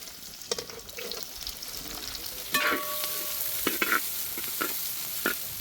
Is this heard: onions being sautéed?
yes